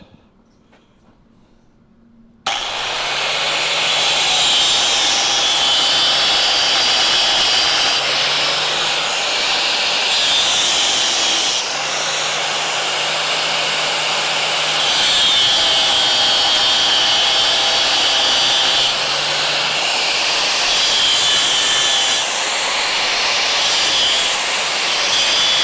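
Loud, steady power tool grinding relief cuts into steel for a car frame rail patch, a continuous harsh whine running in several long passes with brief dips in between.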